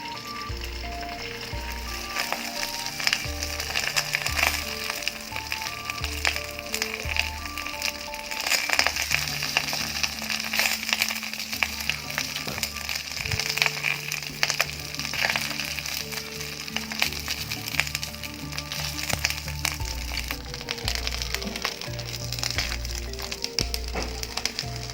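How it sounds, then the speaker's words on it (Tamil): Vala karuvadu dried fish fries in oil on a banana leaf, giving a steady close sizzle and crackle that runs unbroken throughout. "வாழலைக்குள்ளே கொஞ்சம் கொஞ்சமாக எண்ணெய் சேர்த்துக்கிறேன்"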